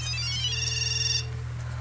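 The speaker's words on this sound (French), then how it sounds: "Quand Théodorine est à Paris, son téléphone n'arrête pas de sonner." A mobile phone rings with a steady electronic ringtone, a bright repeating tone over a constant low hum, close and clear with no talking.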